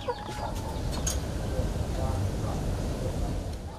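Laying hens on a poultry farm in Tulang Bawang cluck and squawk in a busy, continuous chorus of nearby birds, with a voice talking over them.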